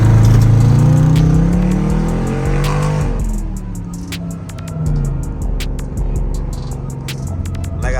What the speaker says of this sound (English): About to get a pull for y'all real quick. A little fake launch.